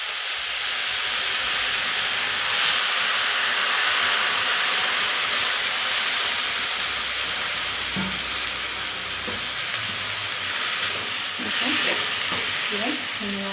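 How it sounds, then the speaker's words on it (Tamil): Washed whole spinach leaves hit a hot pan, giving a steady, loud sizzle and hiss that carries throughout, with occasional stirring clatter near the end. "இப்போ நம்ம கழுவி வச்சு கீரை போட்டுக்கலாம்."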